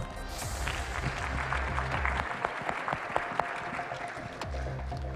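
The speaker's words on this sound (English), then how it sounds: "please give yourselves a clap" A summit audience claps together, a dense rush of applause with some sharper individual claps standing out, heard at moderate level over a low hum of sound-system noise.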